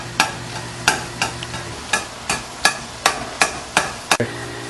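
Egg rolls cook in a pan with a faint sizzle under a steady hum. Sharp, close utensil knocks against the pan come about every half second in an uneven rhythm.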